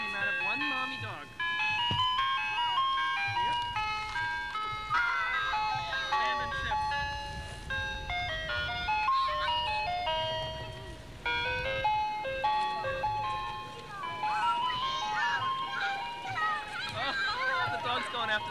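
An ice cream truck passing while a dog chases it, its chiming jingle melody playing continuously and fairly clearly, with people chattering over it throughout.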